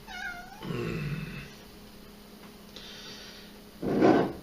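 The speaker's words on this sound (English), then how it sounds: "Every single time this cat comes, every single time." A cat meows in a garage, a few drawn-out calls with a rising, whiny tone, then a louder, harsher cry at the end, nearby with no talking.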